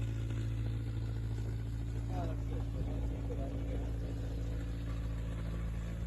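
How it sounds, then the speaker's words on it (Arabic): A farm water pump motor runs steadily beside a small irrigation channel in a bean field, a constant low engine drone with tonal hum throughout, fairly close, with faint voices and movement in the background. "هادي دايزه من الموتور ديال الماء. انا غنوريكم الموتور كيفاش داير."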